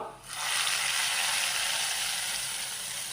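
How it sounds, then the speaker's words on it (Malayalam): Fried onion tempering poured into a prawn and potato curry sets off a loud, bright sizzle that bursts in almost at once and hisses steadily close by, easing only slightly toward the end. "അപ്പോൾ ഇതാ ഉള്ളി വറവ് റെഡി ആയിട്ടുണ്ട് ഇത് കറിയിലേക്കൊന്ന് ഒഴിച്ചു കൊടുക്കാം"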